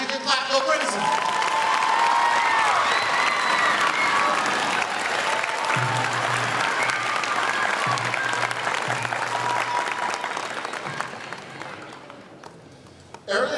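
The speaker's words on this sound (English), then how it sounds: "Now you can clap, go Crimson!" An audience at a junior high school end-of-year band concert bursts into sustained applause with cheering and whistles, steady and loud before gradually thinning out and fading near the end.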